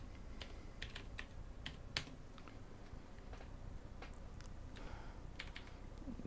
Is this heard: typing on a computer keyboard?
yes